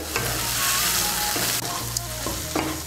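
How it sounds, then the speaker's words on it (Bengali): Potatoes frying lightly with mustard and poppy seed paste, a continuous close sizzle broken by scraping stirs and a few knocks of the utensil against the pan, with no talk. "মিশিয়ে নিয়ে আলুর সঙ্গে সর্ষে পোস্তটা একটু ভেজে নেব হালকা করে"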